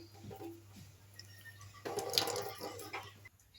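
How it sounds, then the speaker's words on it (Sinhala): Water runs and trickles out of soaked chicken feed as it is squeezed by hand, a faint splashy burst that swells midway and then tapers off over a low steady hum. "මිරික ගන්න ඕන වතුර ටික යන්න."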